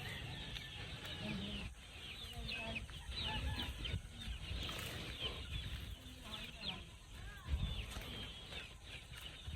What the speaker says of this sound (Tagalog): Ganyan talaga ang mga manok o sisiw pagkatapos kumain. Magtutuka-tuka sila ng damo.